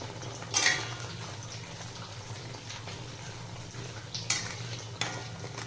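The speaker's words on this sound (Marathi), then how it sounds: "पूर्ण छान असं तेल सुटेपर्यंत ग्रेव्ही तळून घ्यायची." Paneer gravy frying in a kadai sizzles steadily while a spoon scrapes and stirs, with several brief louder scraping bursts at intervals; no talk is heard.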